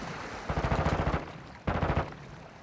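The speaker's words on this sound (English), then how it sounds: "shot from behind while pushing the other guy" Two rapid bursts of automatic gunfire in a battle royale video game, each roughly half a second to a second long with a quick, even rattle of shots, loud and close, separated by a short lull.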